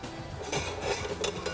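Knife chopping spices roughly on a board while preparing Indonesian telur masak keluwak, a series of sharp close taps and clinks in a quiet kitchen with no talking.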